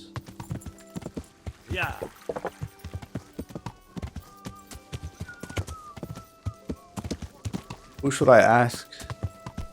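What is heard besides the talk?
horses clip-clopping in Kingdom Come: Deliverance video game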